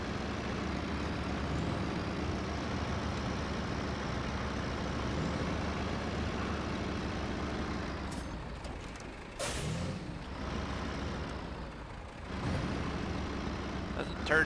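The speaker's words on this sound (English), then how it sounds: "This truck doesn't turn too sharp." Heavy truck engine in SnowRunner rumbling steadily while the truck turns and backs toward a corner, with a brief air-brake hiss midway and a low continuous drone throughout.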